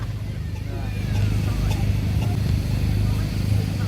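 Steam engines pull away from the Grand Parade at the Shrewsbury Steam Rally, a steady low mechanical rumble with a deep hum that holds throughout under faint crowd murmur.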